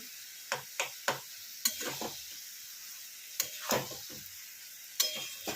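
Mutton keema being stirred and fried in a pan: a soft continuous sizzle broken by scattered scraping strokes of a spatula, irregular and close, with no talking.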